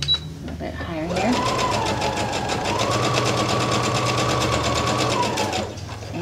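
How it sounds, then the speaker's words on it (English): A sewing machine runs steadily for several seconds stitching a 5/8 inch princess seam, its fast needle rattle and motor hum loud and close, starting and stopping cleanly. "now I'm ready to just sew a 5/8 inch seam"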